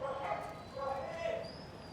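Several dogs in a pet store, among them golden retriever, Labrador, beagle, Pomeranian and German shepherd puppies, bark and yip close by in quick, overlapping bursts, with a whimper in the mix.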